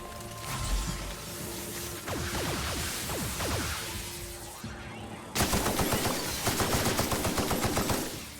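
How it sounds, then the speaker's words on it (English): Hostile robots in The Outer Worlds fire on the player, producing dense, continuous rapid gunfire with mechanical clatter. The volley breaks off briefly, then a louder, harsher burst of shots follows. "Stop shooting me."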